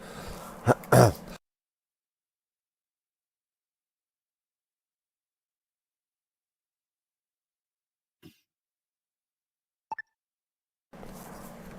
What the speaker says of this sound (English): damn cough.